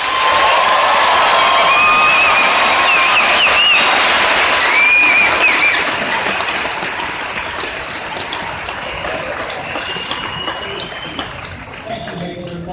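A large graduation audience at Georgia Tech applauds and cheers its newly commissioned officers with loud, steady clapping that fades gradually toward the end, with scattered whistles and a few voices over it.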